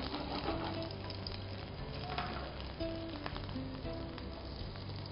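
Small shallots and green chilies frying in hot oil, a steady crackling sizzle heard close up, continuous and even with occasional pops and faint clinks of a utensil.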